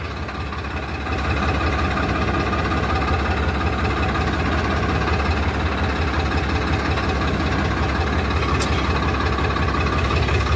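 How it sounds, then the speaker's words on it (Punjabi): A heavy 969 CRTI diesel tractor engine rumbles steadily up close in a field, a loud continuous chugging drone with no voices. "ਪਿੱਛੇ ਕਰਦੇ ਆ ਥੋੜਾ ਜਿਹਾ ਟਰੈਕਟਰ"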